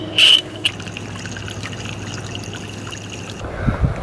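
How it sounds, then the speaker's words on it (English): Water pours and trickles steadily into an inflatable pool, a faint, continuous wash with a brief squeak near the start and a soft thump near the end. "now we're ready to put some water into this thing."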